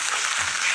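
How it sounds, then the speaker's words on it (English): Spinach wilting in a hot pan, giving off a steady close hiss of sizzling that stays even and continuous for the whole short stretch. "All that water coming out of the spinach is what's causing it to sizzle like that."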